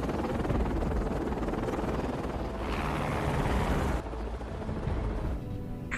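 A helicopter in a zombie film scene drones loudly and steadily with a heavy rotor rumble, the texture shifting partway through as the scene changes.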